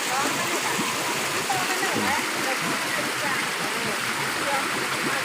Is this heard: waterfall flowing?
yes